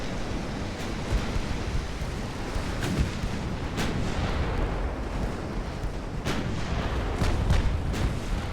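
Naval gunfire booms from warships in the Ultimate Admiral: Dreadnaughts game, a series of distant, muffled cannon thuds spread across a steady, noisy sea-like wash with no talk.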